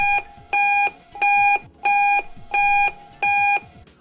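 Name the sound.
speaker beeper internal speaker confirmation beep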